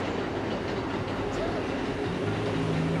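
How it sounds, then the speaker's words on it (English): A New York City 7 subway train rumbles past on an elevated track in Queens, a loud continuous roar of wheels and rail noise with a faint squeal, heard from street level. "It's a 7 train up there."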